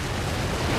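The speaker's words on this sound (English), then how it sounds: "Waves are smashing and crashing on the rocks up there." Waves smashing against rocks in strong wind: a dense, continuous roar of surf and gusts, loud and unbroken.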